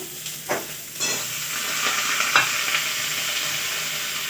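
Ridge gourd hits a hot pan and fries with a steady close sizzle, joined by a few scraping stirs of a spatula, with no voices.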